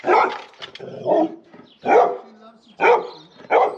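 A dog on a country walk gives several loud barks at close range in a slow, uneven rhythm, with short pauses between them.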